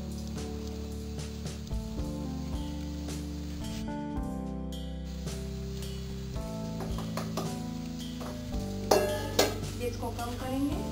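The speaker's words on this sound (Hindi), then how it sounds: "इसको हम ऐसे ही कम से कम 20 मिनट तक आटे को सेकेंगे।" Wheat flour roasting in hot ghee is stirred continuously in a metal pan, giving a steady scraping and clinking with low sizzle, close up and persistent, with a few sharper knocks of the spoon against the pan near the end.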